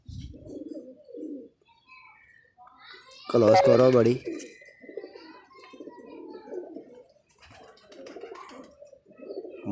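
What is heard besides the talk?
pigeons cooing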